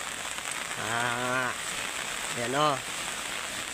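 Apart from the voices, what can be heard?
heavy rain falling during Typhoon Kristine in Masbate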